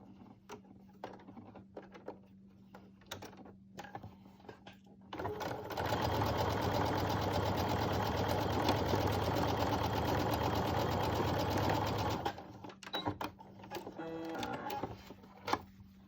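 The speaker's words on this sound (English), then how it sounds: "So you just sew that with just a little 1/4 inch, so just along this edge." A sewing machine whirs steadily for about seven seconds as it stitches a quarter-inch seam along the edge of a fabric Olson face mask, with quieter fabric handling and clicks around the burst.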